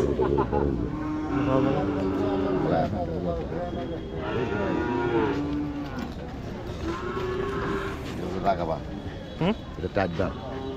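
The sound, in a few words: cattle mooing at Shimulia cattle market, Kishoreganj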